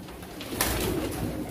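Pigeons cooing at a pigeon auction, a low soft burbling murmur of several birds close by, continuous across the moment with no talk over it.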